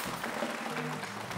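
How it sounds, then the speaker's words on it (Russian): A studio audience at a televised lottery draw claps steadily, a dense, even patter of applause filling the short stretch. "Мы аплодируем Элеоноре."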